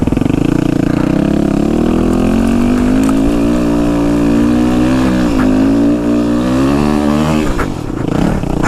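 A supermoto motorcycle with a flat rear tire drones loud and close, its engine pitch climbing and wavering as it rides past, then shifting near the end.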